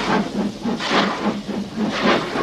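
Steam locomotive on the Ladismith branch line in South Africa's Little Karoo, rhythmic chuffing exhaust bursts with heavy hiss, loud and close, repeating steadily with no talking.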